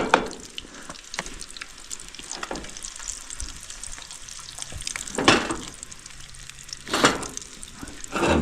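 Eggs frying in a pan over a campfire on an icy riverbank, giving a steady close crackle and hiss, with sharper bursts of spattering breaking through every couple of seconds.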